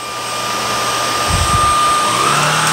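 A Shark Clean & Empty cordless stick vacuum cleaner (BU3523/BU3521) runs steadily up close, a loud, even whine with a steady hiss, after a couple of soft bumps near the start.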